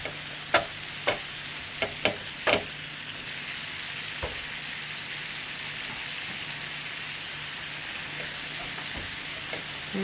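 Leeks frying in butter in a pan give a steady broadband sizzle throughout, with a few sharp clinks of a utensil near the start and no talking.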